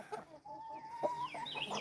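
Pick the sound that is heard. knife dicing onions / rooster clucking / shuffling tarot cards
rooster clucking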